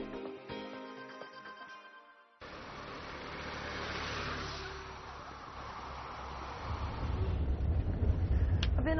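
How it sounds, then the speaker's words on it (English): A bus rolls along the road toward Wanquan River in Hainan, China. Steady engine and road rumble builds toward the end, with a brief quieter stretch and a short sharp clatter near the start. "I've been on the bus for about 2 hours now"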